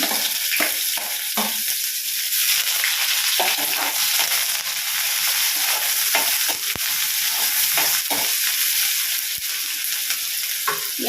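Onion frying in hot oil with mustard seeds and cumin for a soya chunks gojju, a steady close sizzle broken by intermittent scrapes and clinks of a spoon stirring the pan, with no talk.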